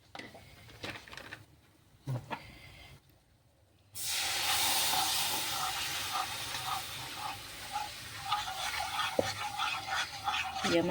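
Milk poured into a hot pan for white sauce gives a sudden loud hiss and sizzle that carries on steadily, after a quieter stretch of faint kitchen clatter.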